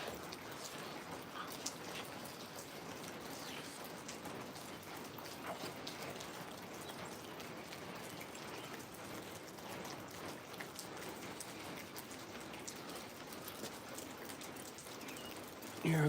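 Steady rain falls outdoors around two Alaskan Malamutes playing, a constant broadband patter of drops on surfaces filling the whole stretch at an even level, with no voices heard.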